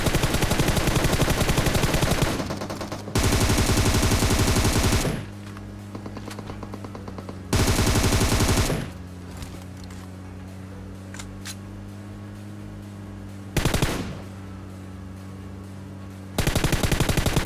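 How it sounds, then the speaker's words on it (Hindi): Gunfire in PUBG Mobile, with long loud sustained bursts of automatic fire separated by quieter stretches of steady engine-like hum and scattered single shots. "सामने से आते फायरिंग।"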